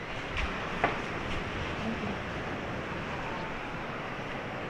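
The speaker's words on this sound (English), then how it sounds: "Hear that noise? That's the ocean." Faint, steady wash of ocean surf on Florida's Atlantic coast at Vero Beach, heard from a distance as a continuous broadband roar with no distinct wave breaks.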